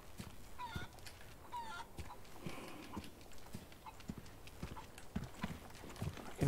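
Short clucks from a chicken in the video game Resident Evil 4 come through a few times, mixed with clip-clopping hooves and busy, rustling game ambience.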